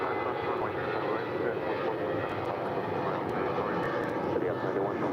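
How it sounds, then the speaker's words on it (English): An airliner takes off at LAX with a loud, steady jet engine roar that fills the air without pause, heard from nearby the runway. "Boston Red Sox plane now taking off."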